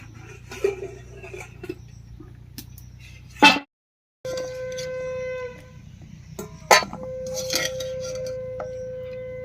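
A lid comes off a cooking pot and the pot of boiled kakrol (spiny gourd) is lifted from the stove, with a few sharp metallic clanks and scrapes over a low stove hum and a brief silent gap.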